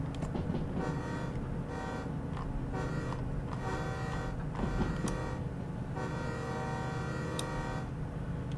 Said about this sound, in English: lovely horn train. Train horn.